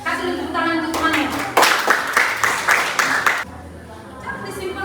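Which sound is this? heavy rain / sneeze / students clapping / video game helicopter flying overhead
students clapping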